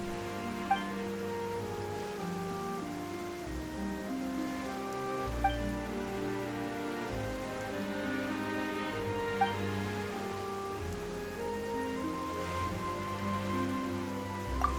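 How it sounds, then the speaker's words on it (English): Steady rain patters softly in Genshin Impact on PS5, a faint hiss running under sustained tonal game music, with no voices. "Why is it raining all of a sudden?"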